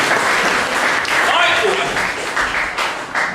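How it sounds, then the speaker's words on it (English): An audience gives a round of applause, a dense burst of clapping that swells and then thins, with people talking over it. "get a big round of applause"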